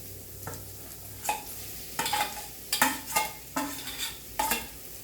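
Leftover upma and mashed potato being mixed together for vada, with a series of close, rhythmic scraping and slapping strokes of a spoon against a vessel, roughly one stroke every half second, no talking.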